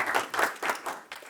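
Brief applause from an audience welcoming a speaker at a business talk, swelling and fading in a few short bursts of clapping.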